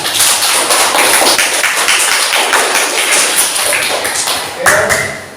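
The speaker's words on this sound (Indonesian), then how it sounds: "beri aplaus pada kita semua" Classroom applause rings out as a dense, continuous patter of hand claps from a group, filling the room and tapering near the end.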